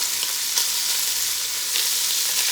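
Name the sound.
meat browning and sizzling in a pot for navy bean stew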